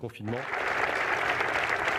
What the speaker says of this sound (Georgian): ეს კი ესპანეთია, სადაც ვირუსისგან გარდაცვლილ ექიმს აპლოდისმენტებით მიაგებენ პატივს